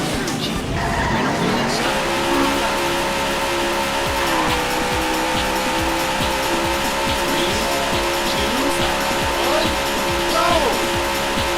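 In the 1993 Sega AM2 arcade racer Daytona USA, race car engines drone steadily while tires squeal and skid repeatedly, and a voice talks over the continuous racing noise.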